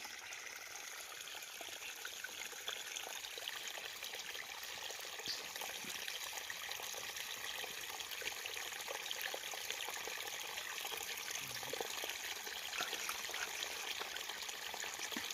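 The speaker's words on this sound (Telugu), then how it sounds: "పైనుంచి కాలువ వస్తుంది కానీ వరదా పోతుంది నీళ్ళు కిందకి" Irrigation canal water flows into a maize field in the early morning, a faint, continuous trickling and gurgling stream with no voices.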